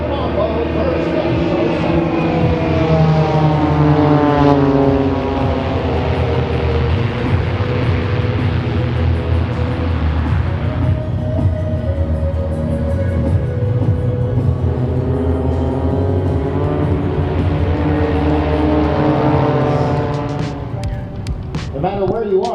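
Aerobatic team airplanes perform at the Canadian International Air Show in Toronto, their engines roaring loud and steady, pitch sweeping down and up as they pass overhead while an announcer talks over them throughout.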